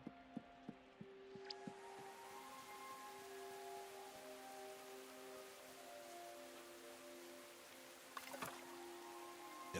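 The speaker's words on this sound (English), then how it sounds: "Okay, it's raining." Rain falls in the cosy video game Tales of the Shire: a steady, faint hiss of rainfall with a few light ticks early on and no voices.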